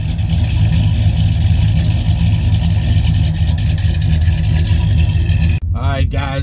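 A cammed Ram pickup truck engine idles with a deep, loping rumble up close, with an uneven lopey rhythm, ending with a brief dropout and wavering tones.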